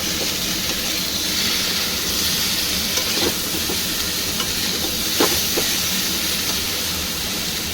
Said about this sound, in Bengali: অল্প করে একটু হলুদ আর নুন দিয়ে দিলাম। ভালো করে ভেজে নেব।